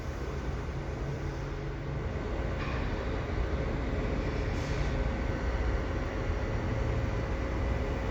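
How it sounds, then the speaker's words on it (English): A CSX freight train hauled by CSX locomotives creeps slowly through a snowy winter setting, giving a continuous, broad rumble of rolling wheels and wagons that holds steady and fairly loud throughout. "It might actually be the CSX train with CSX locomotives."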